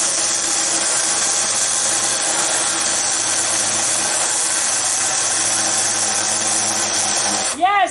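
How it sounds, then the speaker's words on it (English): A battery chainsaw runs steadily for nearly the whole stretch, a continuous loud motor whine while cutting wood for a prop under a tree house, then cuts off near the end as a brief burst of another sound follows. "I'm using the battery chainsaw"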